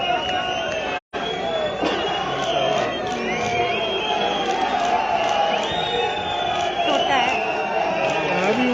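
A large stadium crowd at Zorawar Stadium applauds and cheers at a political rally with the chief minister, a steady wash of clapping and chatter with a brief dropout near the start.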